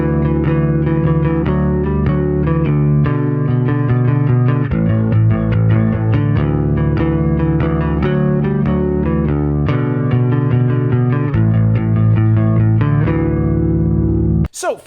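Picked bass guitar playing the main riff of a song, a steady driving line of repeated distorted, chorus-tinged notes with a full sustained tone, continuous and loud for about fifteen seconds, with no talking.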